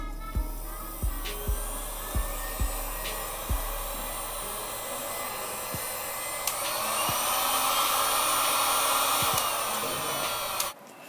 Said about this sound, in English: So you're gonna grab your heat gun. I'm gonna turn it on, give it time to heat up, and then I'm gonna apply.